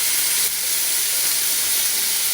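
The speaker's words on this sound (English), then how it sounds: "Look at that sizzle, listen to that sound." Pineapple teriyaki pork chops sizzling on a grill, a continuous bright hissing sizzle, close and steady, with no talking.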